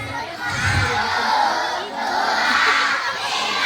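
A crowd of schoolchildren shouts a count together at a school Maulid Nabi event, loud and close, in two sustained bursts of massed young voices.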